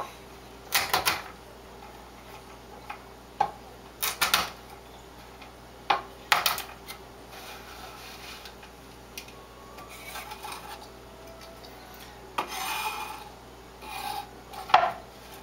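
Chaga mushroom chunk being cut into small pieces for tea, giving a series of sharp, irregular cracking and scraping bursts, fairly close, with quiet pauses between them.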